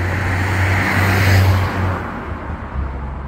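Passing road traffic beside a motorhome parking spot on a rainy day, a car's droning rush swelling close by, then fading as another vehicle approaches.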